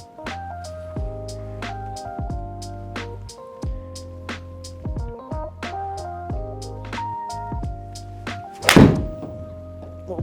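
A 6 iron strikes a golf ball on an indoor Trackman simulator, a single loud, sharp smack late in the clip over steady rhythmic background music.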